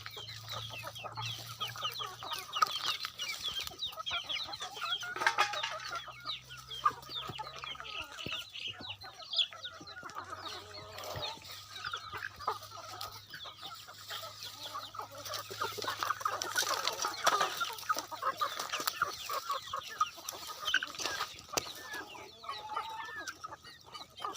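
Red junglefowl chickens cluck repeatedly at close range, with scattered bird calls and a rooster-like crow mixed in over a quiet outdoor background, with no speech.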